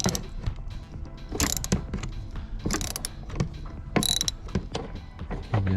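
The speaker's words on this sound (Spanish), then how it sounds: "lo que sigue es quitar este tornillo con el mismo maneral y el mismo dado" A ratchet wrench and socket clicks in short, repeated bursts as it loosens a seat belt bolt in a Ford Escape, close and fairly loud with brief pauses between strokes and no talking.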